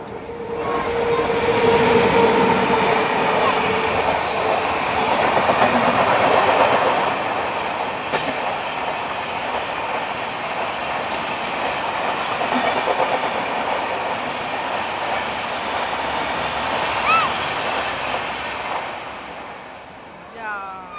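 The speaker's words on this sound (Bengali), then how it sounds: "দাঁড়া, এখানে ট্রেন আসছে।" A train rumbles past close by for about twenty seconds, with a steady roar and rattling wheels holding loud throughout before easing off at the end; a few voices can be heard faintly under the noise.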